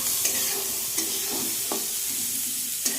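Chopped onion, garlic and capsicum sizzle loudly in a pan, with a bright, dense hiss broken by about five regular scrapes of a spatula stirring the vegetables up close.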